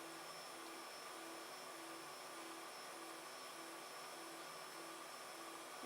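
A Protomaker 3D printer drives its Z axis upward on command, producing a steady, faint motor whine with sustained tonal hums held evenly throughout, no talking.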